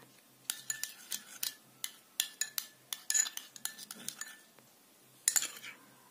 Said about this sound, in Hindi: तो इसको मिक्स कर लेना है